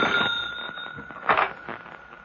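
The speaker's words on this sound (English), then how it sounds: "That's the phone ringing in your office, Jones." An office telephone rings in a radio drama, a steady bright electronic tone repeating in short pulses with a louder burst midway, fairly close and with no talk over it.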